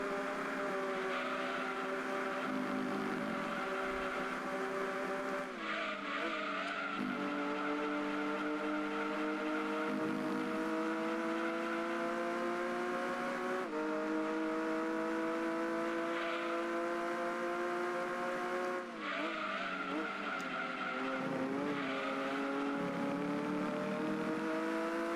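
Race car engine in Gran Turismo 2 droning continuously at high revs, with rising pitch sweeps as it accelerates and shifts gears, loud and steady throughout with no voices.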